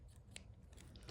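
A single quick snip of scissors cutting crochet yarn at the end of a row, a sharp close click near the end after a quiet stretch with faint handling noise.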